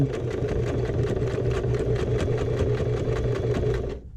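Electric sewing machine running steadily, stitching a small crossbody shoulder bag, with a rapid, even needle rhythm and motor hum close up, alone for about four seconds before stopping abruptly.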